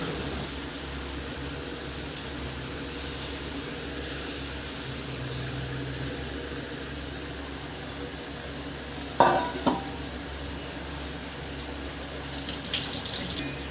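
Pointed gourds (potol) going into a simmering gravy, a soft bubbling and low sizzle with a couple of clattering stirs and scrapes partway through.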